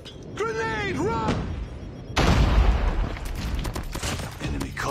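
A grenade blast in Call of Duty Mobile erupts as a sudden loud, deep boom, followed by rumbling gunfire and game noise, with game voice lines playing before it.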